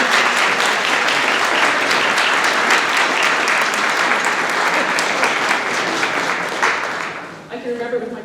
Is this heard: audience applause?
yes